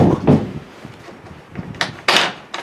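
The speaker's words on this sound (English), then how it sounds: "I bet I can open this other door too." An old wooden door in a 1950s blacksmith's shop is pushed open with scraping creaks and knocks, then a few louder bangs and rattles close by.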